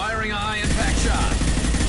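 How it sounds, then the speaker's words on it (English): A high-impact shot fires in the sci-fi game Mass Effect 2 during a fight with mercenaries, a sharp heavy blast with a rumbling tail, following a few moments of overlapping voice. "Firing a high-impact shot."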